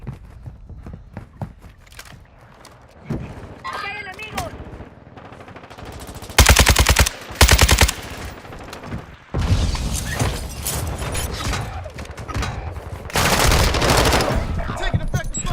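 Rapid video game gunfire bursts in a military shooter, loud crackling volleys that swell and fade in several waves, with heavy sustained bursts around the middle and end, accompanied by distant shots and faint voices.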